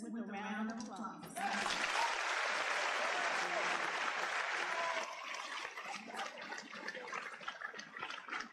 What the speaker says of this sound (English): Join me in saluting these judges with a round of applause.